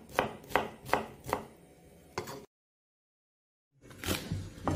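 A knife chops through a fresh, garden-picked eggplant on a cutting board with several crisp, close thuds in quick succession, then a pause of silence before more cutting resumes.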